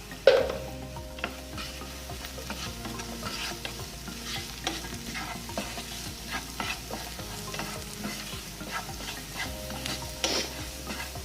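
Onions frying in a pan with turmeric and salt for a ridge gourd dish, a steady low sizzle with repeated scraping stir strokes of a spatula against the pan and occasional sharp clinks, close and without talk.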